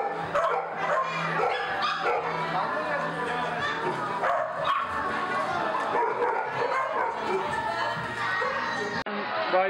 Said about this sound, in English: the cafe actually has dogs for you to pet